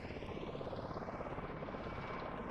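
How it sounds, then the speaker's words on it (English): V-22 Osprey tiltrotor flown in Microsoft Flight Simulator, its rotors and engines giving a loud, steady throbbing roar with rapid rhythmic chopping pulses that never let up. "We're going to fly the V-22 Osprey. This is a tilt rotor aircraft"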